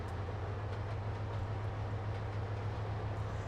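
A Santa Fe train rolls past in Trainz Simulator 2 on the Highland Valley Industries route, a steady low rumble with a faint wheel rhythm, holding an even loudness throughout with no talking.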